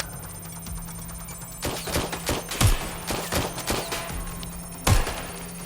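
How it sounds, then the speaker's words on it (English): Gunfire in the video game Watch Dogs: Legion: a burst of several sharp shots, then scattered irregular reports and a final loud crack, all at mid distance over a low steady background hum. "I'm taking fire! Shots fired, shots fired!"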